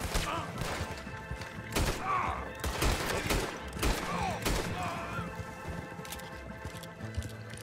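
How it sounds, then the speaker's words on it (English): Gunfire in Red Dead Redemption 2, a rapid scatter of sharp shots and thuds cracking out irregularly over several seconds, with a voice talking faintly underneath. "Maybe because someone's shooting at me?"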